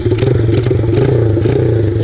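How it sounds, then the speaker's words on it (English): A pit bike engine with a straight pipe and no muffler idles close by, a steady, rough low rumble with a faint mechanical clatter running throughout. "It's not loud on idle, but fully straight pipe, no muffler,"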